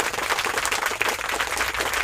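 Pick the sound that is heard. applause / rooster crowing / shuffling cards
applause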